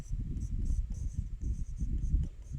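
Writing on a board makes close, scratchy strokes in quick irregular bursts, repeating steadily over a couple of seconds.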